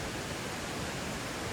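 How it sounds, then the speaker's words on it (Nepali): Stream water flows near Bindukeshar temple at Bhaiyangbhurung, a dense, even rush of broadband noise that stays loud and unbroken throughout, with no voices. "खोलाको कञ्चन पानी"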